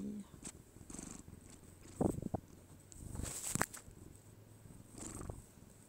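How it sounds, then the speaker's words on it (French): A cat purrs softly and steadily up close, with a few brief rustles and small movements in a quiet room. "Peut-être pouvez-vous entendre le ronronnement."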